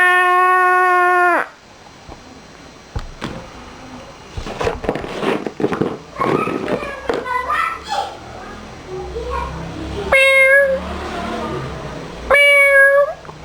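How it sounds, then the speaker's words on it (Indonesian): Several loud, close cat meows with clear harmonic cries at the start and twice near the end, separated by a stretch of mixed noisy sounds, all heard with no talking. "Suara kucing."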